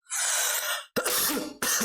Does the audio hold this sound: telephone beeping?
no